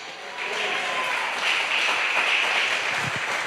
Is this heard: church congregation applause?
yes